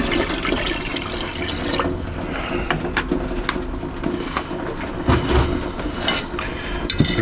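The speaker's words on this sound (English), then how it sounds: "I'm going to put some more water in here." Water is poured into a container while gold is being recovered from transistors, a continuous splashing, rushing flow with occasional knocks, close and fairly loud with no talk.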